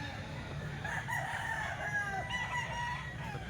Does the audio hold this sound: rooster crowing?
yes